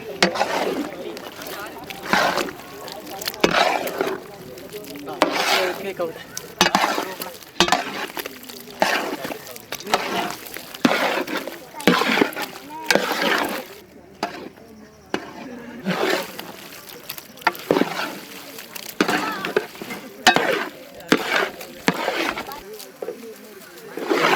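Chicken 65 idli being stirred in a large pot over an outdoor village fire: rhythmic, repeated sloshing scrapes about once a second, with people talking throughout.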